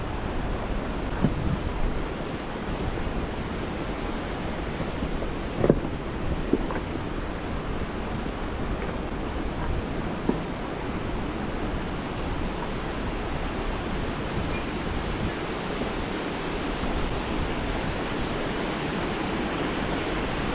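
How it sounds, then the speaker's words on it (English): A river flows beside a jeep trail, its broad rushing roar heard from a moving vehicle, loud and continuous with occasional faint knocks and wind buffeting. "Notice the ambient sound outside, you know, the different parts of the river as you go by it and how the sound changes."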